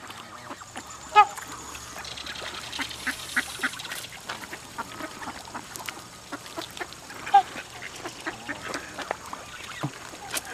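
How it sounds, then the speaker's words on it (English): Geese and ducks at a bird sanctuary honk and quack in scattered bursts, some close and some farther off, over outdoor background noise. "Why are geese mean?"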